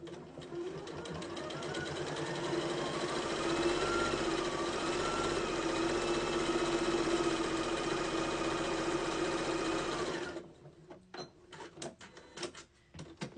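Sewing machine stitching a quarter-inch seam along a quilt strip, a steady fast mechanical whir running for about ten seconds, then stopping, followed by scattered handling clicks.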